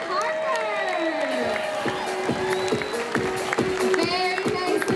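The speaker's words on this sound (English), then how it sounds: "Can you guys all keep that applause going for Harper?" An audience at a Hersheypark sea-life show, featuring an Atlantic harbor seal, claps in a steady rhythmic beat. The sound is close and continuous, with crowd noise, whistle-like tones and a voice over it.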